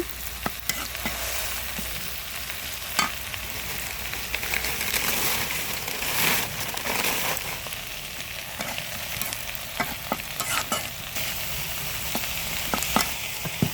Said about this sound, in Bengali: পেঁয়াজটা একদম লাল করে ভাজা নিব